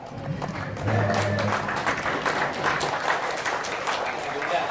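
Audience at an Aceh Utara religious talk claps together in a continuous patter, with a voice speaking over and through the applause.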